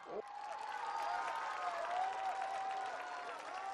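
An audience claps for a singer at the I Am a Singer competition show, a dense wash of applause from a large crowd, steady and moderately distant, with a sustained tonal sound running through it.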